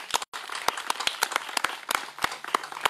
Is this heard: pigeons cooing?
no